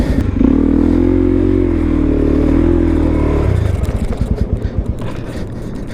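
A Suzuki DR-Z supermoto engine drones and revs loudly as the bike spins in tight donuts, then sputters and chops unevenly as it slows.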